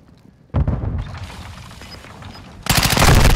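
Rapid automatic gunfire in a shooting video game on the Mercado map, a loud burst of dense shots that eases to a rumbling tail, then a harder, continuous volley at close range.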